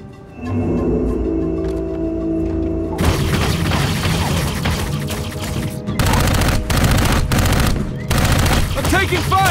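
Gunfire in the video game Dark Void: sustained bursts of automatic fire and booms over a droning mechanical hum and music, with a voice speaking briefly amid the loud, continuous barrage.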